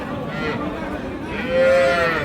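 A cow moos loudly near the end, a long low call over a busy crowd murmur at Raniganj cattle market, Ghoraghat, Dinajpur, selling young heifers and bull calves.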